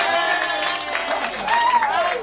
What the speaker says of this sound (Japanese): それからマキさんに大きな拍手。